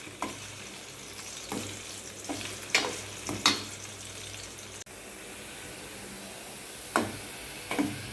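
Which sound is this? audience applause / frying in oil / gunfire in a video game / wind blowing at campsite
frying in oil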